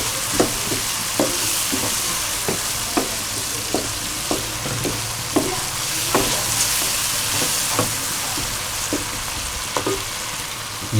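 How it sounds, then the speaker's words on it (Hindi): Whole cumin seeds roasting in a pan, a loud, dense sizzle and crackle throughout with rhythmic spatula taps and scrapes every half second or so, close up. "इसकी थोड़ी सी देर भुनाई करते हैं"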